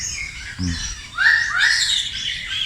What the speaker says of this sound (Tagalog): Grabe. Ang daming ibon dito.